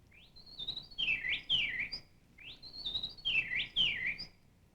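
A man whistles an imitation of a bobolink's bubbling song, two similar rising-and-tumbling phrases in succession, clear and close against a quiet background.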